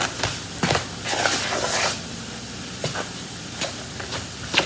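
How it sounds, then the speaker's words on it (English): Crackling, hissing frying noise of potatoes in oil with sharp bursts of spattering, steady and close, no talking. "It might get a little loud because the oil and the potatoes are frying"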